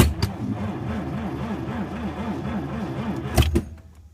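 A 1932 Oldsmobile engine cranks over with a rhythmic, repeating churn as it tries to start, bracketed by sharp clunks at the beginning and end, then fading out.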